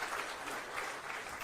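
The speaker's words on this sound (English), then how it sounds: "makofi kwake." Audience clapping at a presidential meeting in a hall at KICC, a dense steady patter of many hands, even and moderately loud throughout with no talk over it.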